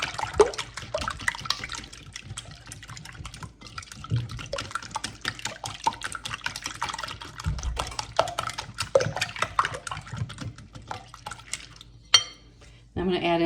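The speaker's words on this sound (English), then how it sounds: "I'm going to give these a whisk." Eggs being whisked in a bowl for an old-fashioned rhubarb custard pie, a steady run of quick clinking, tapping strokes against the dish, fairly close, with small liquid splashes and a brief pause near the end.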